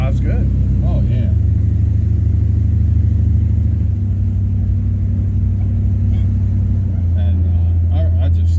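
A 1957 Chevy car drives with a steady, loud low engine rumble and exhaust drone that swells slightly midway, while people talk over it throughout.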